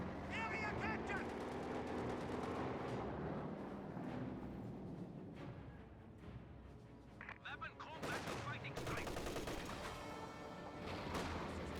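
Gunfire from a garrisoned unit in a Company of Heroes 2 battle, rapid overlapping shots and bursts under a dense, continuous wash of battle noise, loud and steady, with a few sharper cracks near the end.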